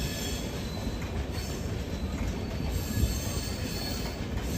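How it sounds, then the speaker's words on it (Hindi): The Vrindavan Express rolls through an Indian railway station, a continuous rumble of wheels and carriages with a high squeal above it, steady and moderately loud throughout. "और शायद से ये वृंदावन एक्सप्रेस है, और इसके बाद तुरंत लाल बाग एक्सप्रेस भी आने वाली है"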